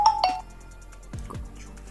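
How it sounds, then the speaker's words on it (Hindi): A mobile phone ringtone chimes in two quick bright tones at the start of a lesson, then fades, leaving faint low-pitched movement and brief murmurs. "सॉरी बच्चों फोन आ गया"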